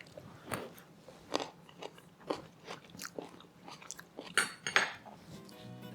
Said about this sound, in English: let's give it one more taste. Let's grab a cherry tomato this time.